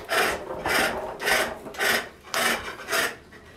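Wooden lidded box, Swedish style, being hollowed on a pole lathe: six close rasping cuts come in an even rhythm, each a short loud scrape with brief gaps between as the treadle returns.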